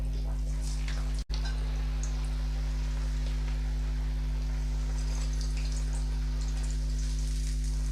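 Maddur vada fry in oil over a medium flame, giving a soft, steady crackle and sizzle with a constant low hum beneath, briefly cut off near the start.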